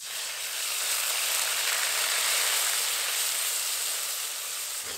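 Poppy seed paste dropped into hot mustard oil with nigella seeds and slit green chillies for bori posto gives a steady, close, bright sizzle and hiss that holds evenly, with no voices.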